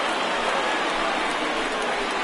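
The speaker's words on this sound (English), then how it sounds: "we've mentioned the conditions aren't ideal with the rain coming down" Steady rain hissing down over a baseball field at a Mets versus Rockies game, a dense continuous wash of drops with no breaks, moderately loud and close throughout.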